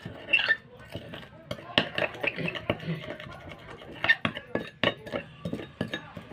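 Spoon clinking and scraping against a bowl while multani mitti face cream with honey and aloe vera gel is mixed, a quick irregular series of close taps and stirs with faint talk underneath.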